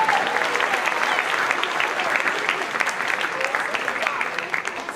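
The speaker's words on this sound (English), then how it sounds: "Let's give him a big round of applause." Crowd at a school spring band concert giving sustained, even applause, a dense wash of many hands clapping that holds steady throughout.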